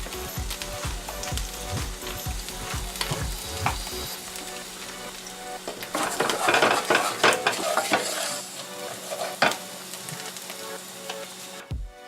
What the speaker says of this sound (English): I begin by sauteing it in a little bit of olive oil,